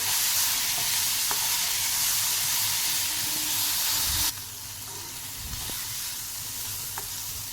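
Chili and coriander mixture for potato thecha sautéing in a pan, a loud steady sizzle that drops suddenly in level midway, with occasional scrapes of stirring.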